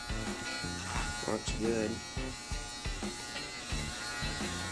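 An Andis Outliner hair trimmer runs with a steady close electric buzz that continues under a voice as he talks briefly.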